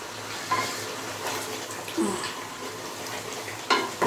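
A spoon stirs korma with cashews and fried onions in a cooking pot, giving intermittent scraping and clinking knocks against the metal amid soft kitchen background noise.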